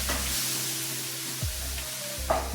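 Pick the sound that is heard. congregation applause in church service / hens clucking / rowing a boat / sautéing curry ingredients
sautéing curry ingredients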